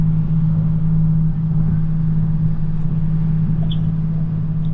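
A passenger launch's engine drones steadily on Kaptai Lake, a low constant hum with a strong steady tone, loud and close throughout under open-air background noise.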